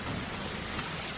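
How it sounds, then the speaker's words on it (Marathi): Heavy rain mixed with hail pours down outside, heard from a parking area as a dense, loud, continuous hiss and patter with no voices. "अगदी गारांचा आणि पावसाचा आवाजच खूप मोठा येत होता."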